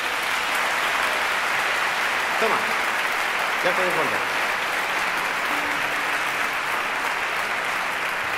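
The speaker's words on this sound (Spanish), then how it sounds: "Que suene más ese aplauso" A concert audience claps in a dense, continuous round of applause that holds steady throughout, while someone speaks briefly over it.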